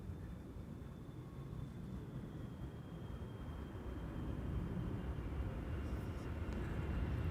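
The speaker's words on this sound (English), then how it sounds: "KLM 5598 arriving from Cape Town, South Africa." A KLM airliner arriving from Cape Town, South Africa, lands on the Polderbaan runway 18R at Schiphol, a steady low jet roar that slowly swells louder over the whole stretch.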